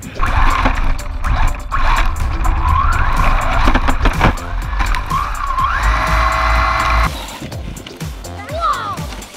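An RC car fitted with snow tires drives and slides across a snowy parking lot, its motor whining loudly and steadily with shifting pitch and scuffing tire noise, while people talk and cheer nearby.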